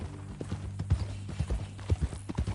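Horse hooves clip-clop in an uneven, close, moderately loud rhythm as a horse is ridden in Red Dead Redemption 2, with low ambient hum underneath.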